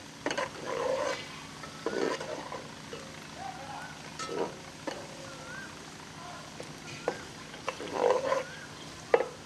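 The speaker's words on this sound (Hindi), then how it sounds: "प्याज को सुनहरा होने तक पकाएंगे।" Soft sizzling of chopped onions frying in hot oil in a pan, with scraping stirs of a utensil and occasional clinks, a voice murmuring faintly in the background.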